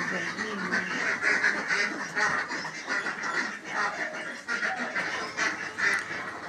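Khaki Campbell ducks quack continuously as an overlapping flock chorus at a small farm, moderately faint but steady throughout.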